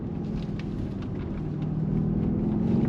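A 2023 BMW XM luxury performance SUV on throttle gives a low, steady engine drone heard from inside the cabin, swelling slightly as it accelerates.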